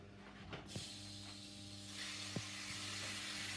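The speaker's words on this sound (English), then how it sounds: "Right, I'm just going to sear these." Pork hits a hot pan and sears, a hissing sizzle that swells louder about halfway through and holds steady, with a few faint knocks of the pan or utensil nearby and no talking.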